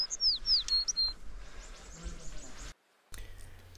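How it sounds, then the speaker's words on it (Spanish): Small birds chirping at a mountain base camp on the Chopicalqui expedition, a few quick bright tweets early on over a soft outdoor background, briefly broken by a gap, with people talking quietly. "Nos reciben con alegría. Los pajaritos."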